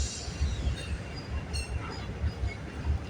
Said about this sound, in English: Now we're into the mixed freight for 133 now.